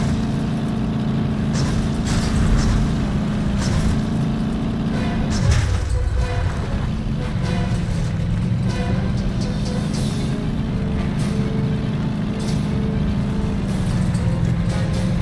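A car driving with a steady low engine drone in the video game Advent Rising on Xbox Series S, a constant rumble with a brief pitch dip mid-way, continuous and close, with faint talk over it.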